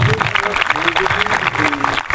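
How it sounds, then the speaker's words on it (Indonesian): Applause for police mobile brigade academy trainees outdoors, a steady wash of clapping from a crowd, fairly loud, with whistle-like tones and voices threaded through the brief burst. "Tepuk tangan untuk Anda semuanya."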